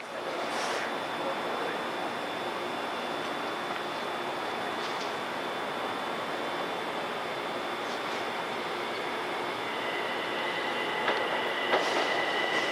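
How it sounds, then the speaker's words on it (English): An eastbound Long Island Rail Road local train rumbles past steadily, a broad continuous roar with faint squeals and a brief clank near the end, heard from trackside at a moderate distance. "here comes an eastbound local at 8:35 en route from New York to Ronkonkoma"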